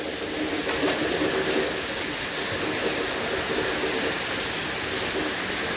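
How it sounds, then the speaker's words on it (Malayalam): Heavy rain pouring down in south Florida during a flood watch, a steady dense broadband hiss that stays loud and even throughout with no talking. "പിടിക്കാറ്റ് മഴ പെയ്തോണ്ടിരിക്കുകയാണ് കണ്ടോ."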